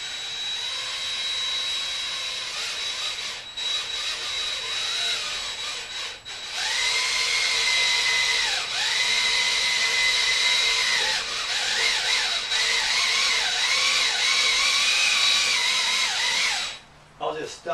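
A cordless drill drives a bicycle lift with a steady whine that pauses, restarts and shifts in pitch as the load changes over several long runs. It sounds close and loud and stops abruptly near the end.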